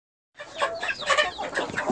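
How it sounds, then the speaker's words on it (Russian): Several chickens cluck and chatter close by in quick, overlapping bursts after a moment of silence. "Курочки проголодались и очень хотят кушать."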